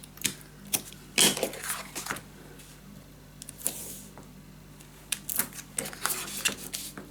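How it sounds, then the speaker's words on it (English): Adhesive tape being pulled and pressed onto a scrapbook mini album, a series of short crackling rips and taps scattered irregularly over several seconds, close and fairly quiet. "I'm just gonna put my tape on"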